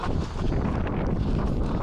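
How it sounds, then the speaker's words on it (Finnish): Strong wind buffets a microphone outdoors at an orienteering competition in Italy, making a steady, loud roaring rumble that fills the whole two seconds with no speech. "toi tuuli oli kyllä aivan järkyttävä"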